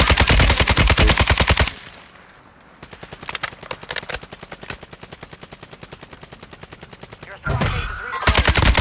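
Video game gunfire: loud, rapid automatic bursts fired close by, breaking off briefly into quieter, sparser shots before the heavy fire resumes.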